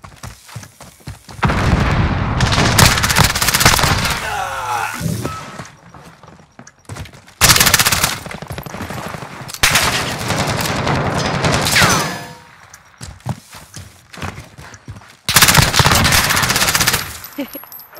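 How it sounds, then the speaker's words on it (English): Bursts of MP7 submachine gun fire in a first-person shooter video game, loud rapid volleys separated by short pauses, with faint game sounds in the gaps. "Someone is draining me with the MP7."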